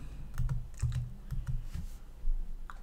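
Keys clack on a computer keyboard in a short burst of about half a dozen soft, close presses in an irregular rhythm.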